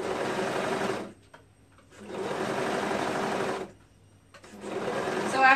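A sewing machine runs slowly while stitching a tunic sleeve to the top, with two loud, steady bursts of motor whir separated by short pauses, then a third run starting at the end.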